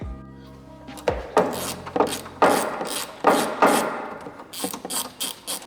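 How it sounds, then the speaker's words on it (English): A ratchet unscrews a fastening on a vehicle's air box area, giving a run of sharp clicking bursts in uneven strokes, close and fairly loud with short pauses between turns. "I'm just gonna unscrew this so I can move the box over that way"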